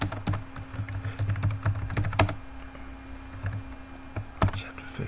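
Rapid clicking keystrokes on a computer keyboard in bursts of quick taps with brief pauses, close and fairly quiet against a low steady hum.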